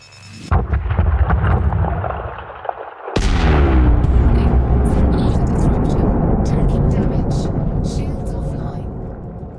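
Mining charges detonate in Elite Dangerous: a short sharp blast, then a huge deep boom that rolls into a long rumbling roar, loud and sustained, with faint crackling bursts above it.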